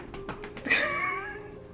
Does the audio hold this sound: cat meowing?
yes